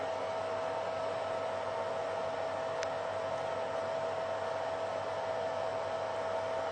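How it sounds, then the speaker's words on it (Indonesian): A power supply cooling fan runs steadily beside frost-covered fins, a constant broadband whoosh with a faint steady hum tone, unchanging and fairly quiet throughout with no voices. "Ya, kipas power supply menyala lagi."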